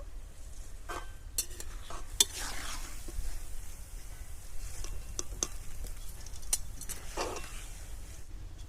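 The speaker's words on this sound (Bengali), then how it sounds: "এইভাবে একে একে সব ঝুরি ভাজাটা ভেজে নেব" Quiet, continuous sizzling of batter strands deep-frying in oil, broken by occasional sharp clinks and scrapes of a utensil against the pan.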